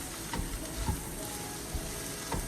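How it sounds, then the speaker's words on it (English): Chicken stock hits a hot pan of softened vegetables with a steady close sizzle, a few soft stirring knocks breaking through now and then. "Now I'm just adding a little chicken stock"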